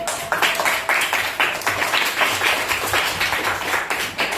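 Students in a classroom clap for group 1, a brisk patter of many hands at moderate volume, fairly even throughout, with no talk over it.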